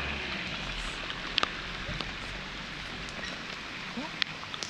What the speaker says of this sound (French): Vous pouvez remarquer que là il pleut